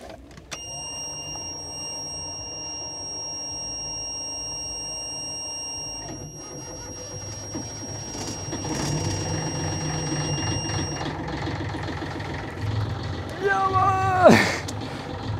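The engine of a 50-year-old sailboat turns over after sitting idle for a long time and settles into a low, steady rumble. A long electronic tone sounds before it starts, and people talk over it.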